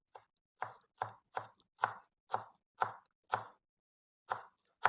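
A knife slices rolled-up vegetables for a winter salsa-style salad, about ten crisp, evenly spaced chops on a board, close and clear with quiet gaps between strokes.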